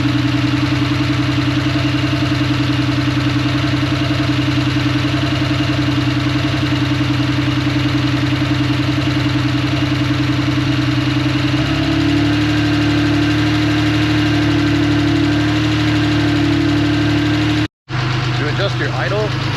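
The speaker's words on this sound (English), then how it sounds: "I'm going to let it idle, and we're just going to pull the plug to cylinder number 4 here" A Porsche 911 flat-six idles steadily and loud, then its note shifts and roughens partway through as cylinder 4's plug is pulled, running on five cylinders with a brief dropout near the end.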